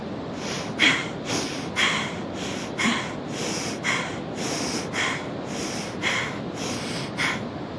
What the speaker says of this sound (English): we're gonna practice an activating breath technique called Bhastrika, or Bellows breath